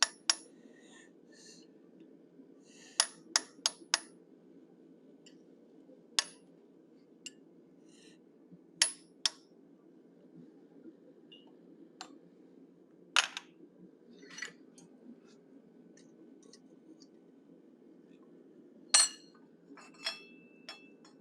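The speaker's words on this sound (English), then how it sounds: "Using a straight cut chisel, I'm going to cut a line up the center of the snout" Sharp metallic strikes of a hammer driving a straight cut chisel into hot steel while forging a cougar or lynx head, irregular single and clustered clinks over a steady low hum, no talk.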